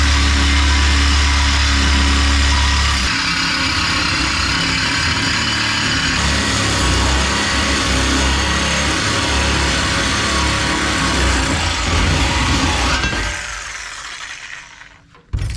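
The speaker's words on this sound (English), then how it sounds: "That's a pretty clean cut for a Sawzall, to be honest with you" A Sawzall reciprocating saw cutting 45-degree ends on metal for a baby log truck build, a loud, sustained buzzing rasp that runs steadily before winding down near the end.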